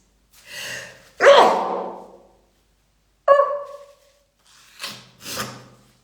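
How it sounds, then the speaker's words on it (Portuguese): A person sneezes during a talk: a sharp inhaled gasp followed by a forceful sneeze burst and further short breathy vocal sounds, close and loud against an otherwise quiet room. "Um espirro ao vivo."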